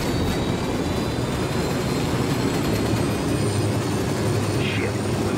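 Steady aircraft engine drone in the Ghost Recon Wildlands video game, a constant broadband roar with a low hum, continuous throughout.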